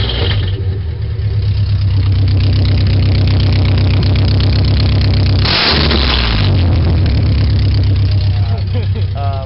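A 22RE-powered Toyota 4Runner truck engine with its O2 sensor disconnected runs loud and raspy through an open Pacesetter header, idling with a steady throbbing rumble and a brief rev partway through.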